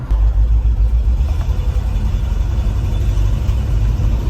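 Krusty K10 car cruising at about 30 making a horrible noise, a loud, steady low engine drone and road rumble heard close from inside, with no talking.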